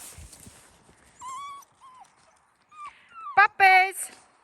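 Seven-week-old fox red Labrador puppies give short high whimpers and yelps, a brief cry early on and a louder burst of squeals near the end, with a voice speaking softly in between.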